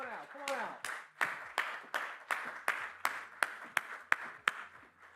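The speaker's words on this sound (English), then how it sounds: "give me a big round of applause for our panelists" An audience at a sports-broadcasting panel event claps to welcome the panelists, a series of about a dozen sharp, fairly regular claps. A voice speaks briefly at the start.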